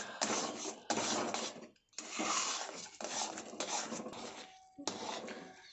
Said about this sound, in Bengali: এই মণ্ডটা বানানোর জন্য এই সুজিটাকে অনবরত নেড়ে নেড়ে করতে হবে